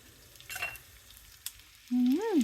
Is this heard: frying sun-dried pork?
yes